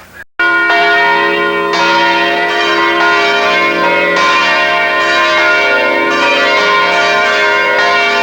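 The church bell of the St-Jacques parish in Embrun rings loud and close, with repeated strikes blending into a sustained, shimmering hum.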